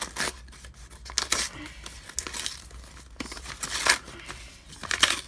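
A fan mail package holding Pokemon cards is being opened, with repeated crinkling, snipping and tearing of packaging in bursts at close range; no one speaks.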